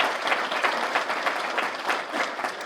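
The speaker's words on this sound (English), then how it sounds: "They deserve the applause." Audience at a law school grand honors awards ceremony applauding, dense sustained clapping filling the room.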